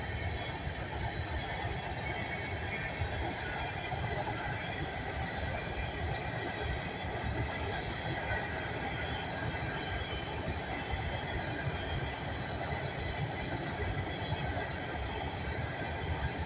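A long CSX coal train crosses a bridge over Highway 72 in Abbeville, giving a steady, continuous rumble of rolling cars and wheels with faint squealing, heard alone for the whole stretch.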